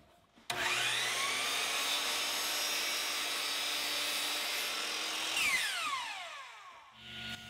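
A power saw starts abruptly and runs at a loud, steady whine while cross-cutting a wooden part against a stop block for a wall-mounted cabinet leg, then spins down with a falling pitch, close by with no talk.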